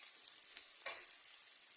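Whole cumin seeds fry in hot oil as a soft, bright, even sizzle with a few faint pops, close by and alone.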